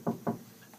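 Two firm knocks on a door, close and fairly loud, spaced about a fifth of a second apart, followed by quiet room tone with no talking.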